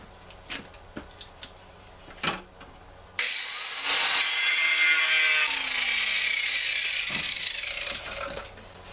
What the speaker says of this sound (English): Now we're going to cut this outside edge off on both sides.